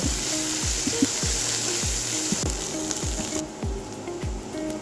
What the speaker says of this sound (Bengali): এখন এটাকে নেড়ে চেড়ে ভালোভাবে ভেজে নেব